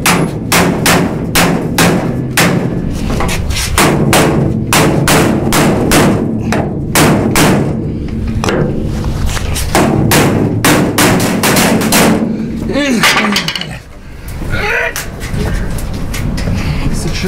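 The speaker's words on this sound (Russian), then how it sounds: "Первое, производим удары с помощью зубила." Rapid, repeated metallic strikes of a hammer on a chisel against a ROSTEX QUADRUM protective lock fitting ring out in a steady rhythm, loud and close, with a brief pause near the end before the hammering resumes.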